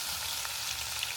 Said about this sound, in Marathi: लसूण भाजलेला आहे छान.